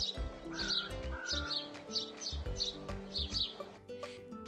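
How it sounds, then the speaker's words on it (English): A pet bird chirps in repeated short bursts throughout, fairly close and clear, with no talk over it. "That's the sound of a bird."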